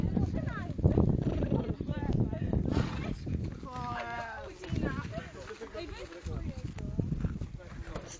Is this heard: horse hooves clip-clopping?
yes